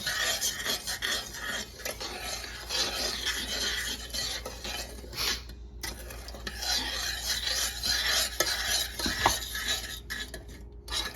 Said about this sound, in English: Right now we're stirring it. Just until it dissolves.